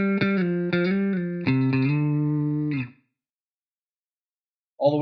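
Short synth or keyboard phrase run through a small, wide reverb plugin, sustained harmonic tones with a short airy tail that cuts off into silence before a new note enters at the end.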